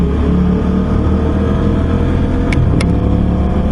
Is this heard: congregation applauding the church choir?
no